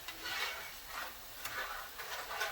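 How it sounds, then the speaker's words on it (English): Mongolian beef ingredients being stirred in a hot pan, a soft close sizzle that swells in waves with each stroke of the spatula, fairly quiet and without any voices. "And then I'm just going to stir that over."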